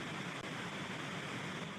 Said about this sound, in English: I went all the way out to 80 feet with the pink noise test and only experienced a tiny breakup in the signal.